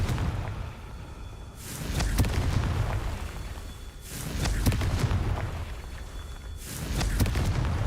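The Confringo blasting spell in the video game Hogwarts Legacy erupts as three rolling, booming explosions at regular intervals, each a loud burst that swells and fades with rumbling debris between them.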